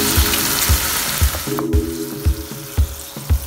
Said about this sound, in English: Mix it. And let it fry.